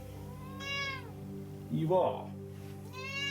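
A house cat meows indoors, a few short, close meows between a woman's soft spoken words.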